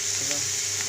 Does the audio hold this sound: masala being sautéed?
yes